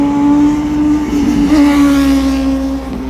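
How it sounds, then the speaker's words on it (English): A motorcycle whips past on the opposite side of a new coastal bypass road, its engine droning loud and close as it sweeps by, then fading slightly as it heads away. "see the motorcycle just whipped past me on the opposite side heading west"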